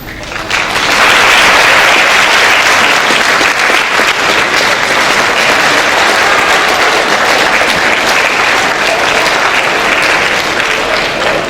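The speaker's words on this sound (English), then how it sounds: "Students, please stand and give a round of applause to thank those that deserve to be tonight" Students stand and give a sustained round of applause at a high school leadership awards night, loud, dense clapping from a large crowd that holds steady throughout.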